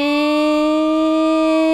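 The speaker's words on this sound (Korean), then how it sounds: "소방차가 출동하고 있네요" A fire truck siren sounds as a steady, loud sustained wail with no talk over it.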